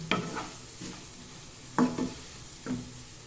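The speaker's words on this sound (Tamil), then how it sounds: "இப்போ காயெல்லாம் நல்லா வதங்கட்டும்." Mixed vegetables sautéing in a pan for green peas kurma, with a spoon stirring them in three or four distinct scraping bursts over a soft, steady sizzle; no talking.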